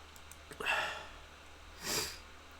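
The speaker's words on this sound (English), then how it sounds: "I apologise about all the sniffing as well, I really do." Two quiet, close sniffs from a person, one short and sharp, then a longer breathy one about a second later, with no talk.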